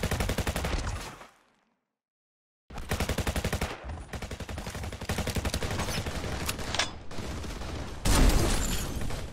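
Standard rifle gunfire in the video game Eximius, loud rapid bursts of automatic fire separated by a silent gap, continuing steadily to the end with a heavier burst near the close.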